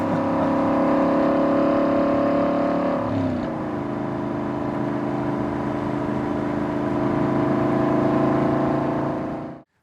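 A 2008 Aston Martin Vantage or 2014 Maserati GranTurismo exotic sports car engine droning at steady revs, then dropping in pitch as it downshifts and holding a lower tone before cutting off, loud and close.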